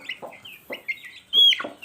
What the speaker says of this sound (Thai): แต่ตอนนี้ยังพูดถึงเรื่องไก่ ลูกไก่ที่เกิดมาลายครับ